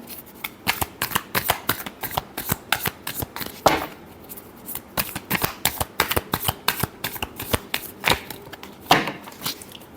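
Tarot cards being shuffled by hand in quick, crisp riffling bursts, a steady run of sharp papery flicks up close with short pauses between shuffles.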